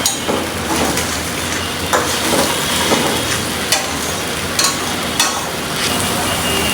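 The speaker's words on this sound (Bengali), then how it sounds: "স্বাদ মতো লবণ মশলাটা কষানো হতে থাকুক" Spice paste with salt frying in a pan, a dense continuous sizzle with sharp periodic clinks and scrapes of a spoon against the pan, close and loud, no voices.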